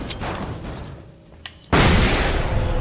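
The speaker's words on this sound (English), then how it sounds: "Guess I can drop a flashbang down there." A flashbang goes off in the video game Alan Wake: a sudden loud burst after a quieter stretch, followed by sustained roaring noise that holds to the end.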